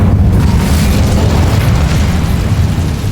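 A loud, sustained fiery blast from the Incendio fire spell in Hogwarts Legacy, a dense roaring burst that fills the whole clip at steady high volume with no talk.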